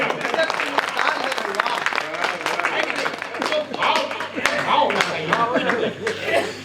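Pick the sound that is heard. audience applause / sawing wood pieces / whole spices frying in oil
audience applause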